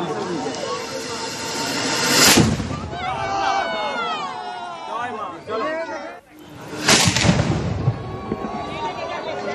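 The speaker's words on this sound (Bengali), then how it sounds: "কামান দেগে বিজয়া দশমী।" A ceremonial cannon fires on Vijaya Dashami at Bishnupur, part of the Malla kings' puja tradition: two loud, sharp blasts several seconds apart, set against a busy crowd with voices and a tonal background between them.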